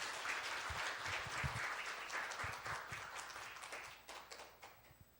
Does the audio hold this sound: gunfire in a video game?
no